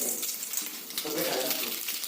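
Cumin seeds splutter in hot oil, a close hissing crackle with faint popping and a stir or two, brief and moderate in level.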